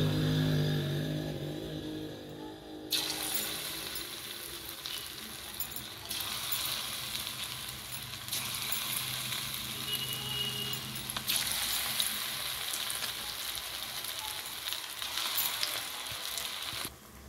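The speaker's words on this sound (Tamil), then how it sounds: "இப்போ இதை வந்து நம்ம ஆயிலில் பொரிச்சு எடுத்துக்கலாம்." Marinated paneer pieces dropped into hot oil, setting off a loud, steady, close sizzle that swells suddenly and keeps crackling evenly throughout, with occasional small clinks and no voices.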